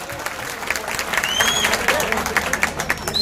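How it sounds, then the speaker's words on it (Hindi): Crowd applause for Manish Sisodia at a political gathering in Seelampur, Delhi, steady clapping building slightly, with whistles and voices mixed in. "जनाब मनीष सिसोदिया जी के लिए जोरदार तालियां बजा दीजिए।"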